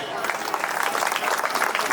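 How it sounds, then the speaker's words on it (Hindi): An audience claps at a Buddhist wedding stage function, a steady, dense run of applause that fills the moment, with voices mixed in. "सब लोग फिर से ताली बजा दें।"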